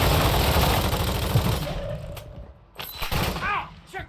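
Gunfire in the video game Call of Duty Warzone: dense, loud rapid-fire bursts and shots fill the first half, then thin out into a few scattered shots and game effects, with voices briefly heard.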